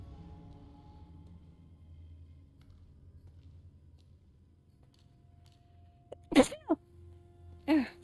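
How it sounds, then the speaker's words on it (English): A person sneezes sharply twice near the end, the first a quick double burst and the second a single loud one, after several seconds of quiet low background hum. "A little bit of morning sneezes right there."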